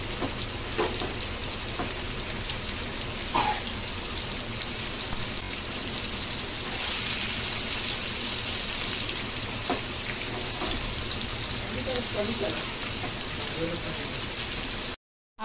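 Chivani fish fry in oil in a pan with a constant crackling sizzle, close and steady, with a few soft clinks of the fish being turned.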